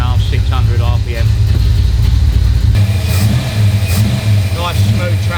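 A Cobra replica car's engine revs briefly and then drops smoothly back to a low, steady idle, heard close while people talk over it.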